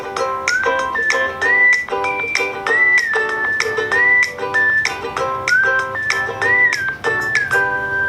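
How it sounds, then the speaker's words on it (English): A whistle sound effect from an animation app plays as a melodic, warbling whistle over backing music, loud and continuous, with short pitch slides and phrases repeating across the stretch. "If you will click on the whistle,"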